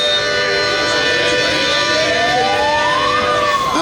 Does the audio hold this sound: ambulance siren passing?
yes